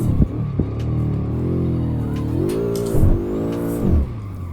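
A BMW M5 F10 V8 engine in Assetto Corsa blips and drops through gears while braking, harmonic engine tones falling and rising as the revs change with brief bursts between shifts; no one talks.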